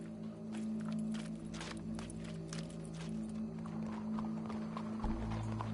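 Horse hooves from the video game Red Dead Redemption 2 clip-clop in a steady walking rhythm over a low, constant hum of background music.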